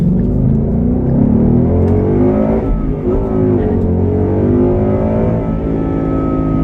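A 2016 Ford Mustang GT convertible's V8 roars under hard acceleration, a loud, close, steady rumbling growl that climbs in pitch with a short dip midway, heard alone without talk.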